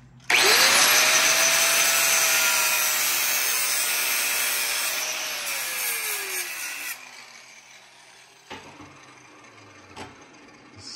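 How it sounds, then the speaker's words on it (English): A cutting tool slices the hose barb off a PCV crankcase ventilation fitting: a loud, continuous high-pitched cutting whine with a falling tone lasts about seven seconds, then stops, leaving a few faint knocks. "we're gonna cut the hose barb off because we need to weld our dash 8 bung on here"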